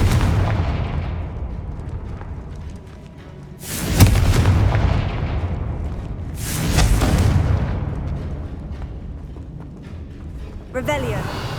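A Confringo fire spell explodes in Hogwarts Legacy, two loud booming blasts a few seconds apart over a steady low rumble, followed by a brief crackling burst at the end.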